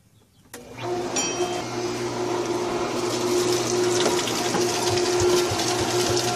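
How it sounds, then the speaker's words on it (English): A pool DE filter pump starts up during backflushing with the check valve closed and the backflush valve open, kicking on abruptly into a steady, loud mechanical hum mixed with rushing water that carries on throughout. "with the check valve closed on the filter and the back flush valve open, I'm going to turn the filter on right now"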